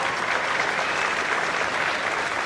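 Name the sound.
audience applause for school band students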